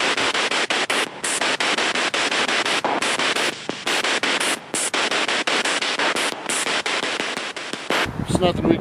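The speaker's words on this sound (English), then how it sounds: "During the spirit box session, there were no responses. All you could hear was static." Harsh spirit box radio static during a paranormal session in Bucksport, Maine, a loud scanning hiss chopped by frequent brief gaps and clicks as channels sweep, with a short muffled sound near the end.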